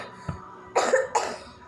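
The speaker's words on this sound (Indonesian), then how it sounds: "kok pada batuk sih?" Children cough close by, with a small throat sound followed by two distinct harsh coughs in quick succession.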